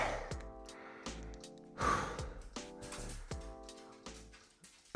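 People breathing hard after a CrossFit AMRAP workout, with gasps, sighs and snorting exhales coming in uneven bursts, close and fairly quiet with no talking.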